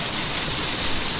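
A waterfall at Serra do Cipó roars with a loud, steady hiss of rushing water, close and unbroken, with no voices.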